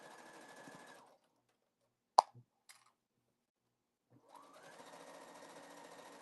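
A sewing machine back-stitches a seam with a fast, steady mechanical whir. It stops for a few seconds, broken by a sharp click and a soft tap, then starts running again.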